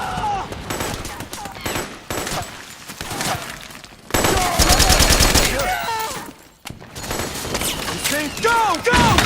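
Rapid automatic gunfire and bursts of shooting in the Metal Gear Solid 4 battlefield, loud and sustained, with heavy impacts and crackling volleys, and game voices shouting over the fire.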